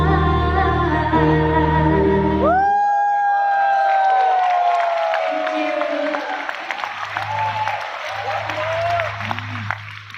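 Wedding guests at a reception clap for the newlyweds, a broad wash of applause that starts after someone speaks over a microphone, then continues steadily with occasional further voices mixed in.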